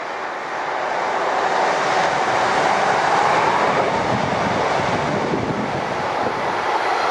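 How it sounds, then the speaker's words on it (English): Northbound and southbound trains pass each other on the line, making a continuous, loud, rolling roar of wheels and engines that holds steady throughout, with some wind buffeting on the microphone. "the northbound and southbound trains met each other whilst I was filming them"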